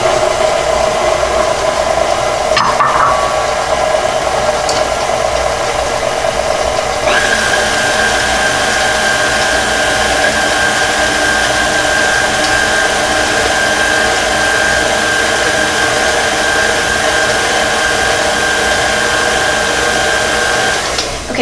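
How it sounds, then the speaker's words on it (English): An electric mixer whirs steadily while combining lemon zucchini bread batter. A brief clatter comes early on, then the motor settles into a sustained, even hum with a higher whine that continues to the end. "So we're going to put all that in your mixer and you're going to let that get combined."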